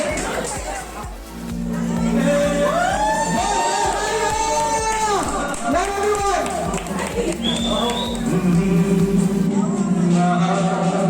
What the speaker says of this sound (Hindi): जोरदार तालियों से आपका स्वागत करिए।